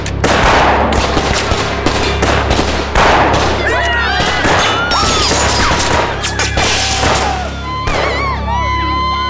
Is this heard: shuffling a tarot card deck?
no